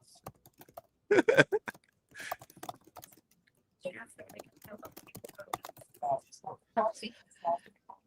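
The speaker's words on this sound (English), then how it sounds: "I apologize for my Sandra Bullock typing from the net" Someone types on a computer keyboard during a live stream, producing irregular bursts of soft clicking with pauses between, mixed with low voices and whispering.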